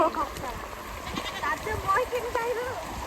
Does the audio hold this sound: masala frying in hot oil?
no